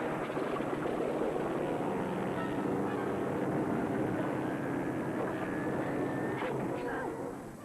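A steady, loud aircraft engine roar fills the scene in a 1981 film, holding constant with a faint rising whine, as a plane begins to roll.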